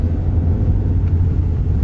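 A manual stick-shift car's engine rumbles low and steady from inside the cabin while driving in first gear.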